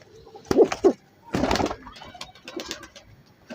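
A pigeon coos close by, with a few soft throaty calls, a brief burst that may be fluttering, and someone speaking quietly in between.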